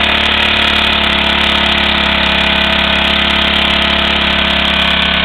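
A 2.5 horsepower engine running on wood gas from a 4-inch stratified downdraft gasifier, a loud, steady, close mechanical drone with a fast even chatter and no letup.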